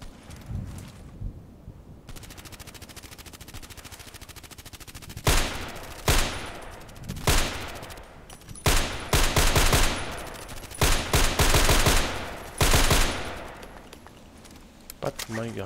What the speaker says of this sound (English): But my gun is too loud.